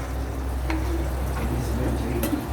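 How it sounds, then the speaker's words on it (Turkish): Continuous sizzling and crackling of minced meat frying in a pan, with a couple of faint scraping stirs; no voices. "Bir yandan Kıymamızı kavuruyorum."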